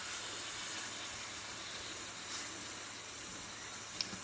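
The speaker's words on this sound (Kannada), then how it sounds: "ಇದನ್ನು ಚೆನ್ನಾಗಿ ಫ್ರೈ ಮಾಡುವ." Garlic frying in coconut oil gives a soft, steady hiss of sizzling oil, faint and continuous throughout, with a small click near the end.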